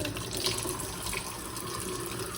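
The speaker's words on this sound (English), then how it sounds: "wash off our potatoes, wash off our potatoes, and our pepper." Steady tap water pours into a sink as potatoes and a pepper are washed, a continuous close rushing flow with no talk.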